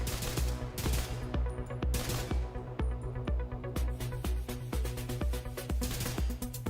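Sustained submachine gun fire from The Division 2 as the magazine is emptied: dense, loud, close bursts of rapid shots with brief gaps, continuing steadily throughout.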